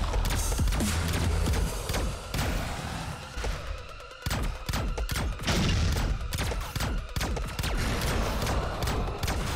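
Rapid sustained gunfire from a held trigger in the video game Wildcat Gun Machine, loud stuttering bursts of shots with a brief dip midway before the rattling resumes, layered over game music and effects.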